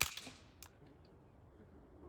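A single .22LR subsonic rifle shot with a sharp, fairly close crack that decays quickly into a faint trailing echo, with no voices.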